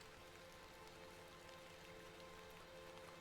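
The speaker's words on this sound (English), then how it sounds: "A bit of rain won't kill me" Steady, soft rain falls continuously in the video game The Excavation of Hob's Barrow, an even hiss of drops with no speech over it.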